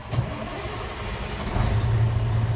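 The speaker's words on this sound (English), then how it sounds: "Now I can start the vehicle" A truck's engine cranks and catches during a CDL-A in-cab pre-trip inspection in Ohio, settling into a steady low rumble that fills the cab without any talk.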